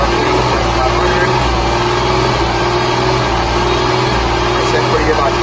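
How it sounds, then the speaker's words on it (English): Car engine idling steadily at a raised RPM of about 500 during mechanical testing, a continuous low rumbling hum held level throughout with no pauses. "We're going to increase the idle, increase RPM to 500."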